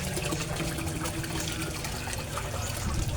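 A submersible pump pushes water in a steady, close rushing and trickling wash, continuous and fairly loud with no speech over it.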